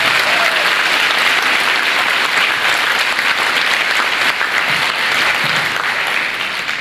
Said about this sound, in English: Let's give a round of applause for the band in Orlando.